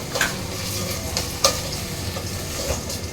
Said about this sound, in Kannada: ಒಂದು 5 ಮಿನಿಟ್ಸ್ ಲೋ ಫ್ಲೇಮಲ್ಲಿ ಫ್ರೈ ಮಾಡ್ಕೋಬೇಕು.